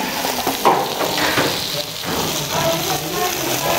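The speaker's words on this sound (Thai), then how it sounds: "พอมันฝรั่งเริ่มหอมแล้วนะคะก็ตามด้วยหัว ใจหัวใจหลักเลยนะคะ คือแตงกวา เอาไปผัดเลย" Cucumber and potatoes stir-fry in a pan, a loud continuous sizzle close by, with scraping stirs and clinks breaking through the steady hiss.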